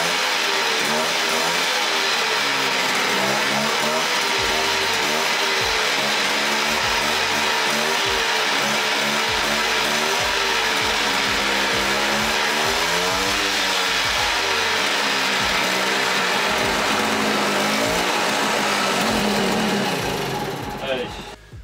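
A moped (mobylette) engine with a new intake pipe runs steadily and loudly up close, a buzzy two-stroke drone that rises and falls slightly with throttle, then cuts off at the end.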